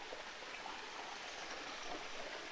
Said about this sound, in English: It has a little dam behind it that collects water from a natural spring coming out of the mountain.